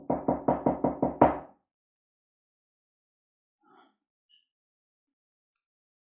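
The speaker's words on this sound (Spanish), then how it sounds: "subió con decisión y llamó a la puerta" A fist knocks on a door six times in quick, even succession, close and firm, followed by near silence with only a faint stir and a tiny click.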